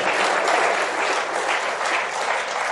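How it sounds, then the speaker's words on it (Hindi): Indoor audience of a few hundred people clapping together at a motivational talk, a dense, steady burst of applause that fills the whole stretch without pause. "इतनी सी ताली आपने बजाई तो बड़ा अच्छा नहीं लगा यार"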